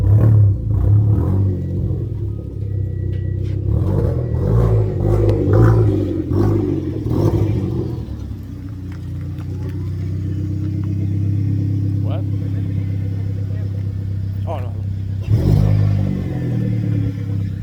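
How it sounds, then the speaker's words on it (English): A car fitted with a Genesis test pipe exhaust revs and rumbles as it passes along a street, loud and close with a deep drone that swells near the end. A car alarm and talk are also audible. "I'm gonna go pull down the street and I'm gonna rip by and Vincent will get on it."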